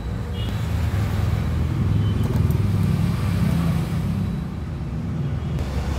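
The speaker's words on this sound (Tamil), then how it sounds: "உங்களுக்கு வண்டி வாகன சத்தம் கேட்குதா?" Road traffic rumbling past a roadside shop, a continuous loud low drone of cars and motorbikes with a slight swell as vehicles pass close by, and no talking.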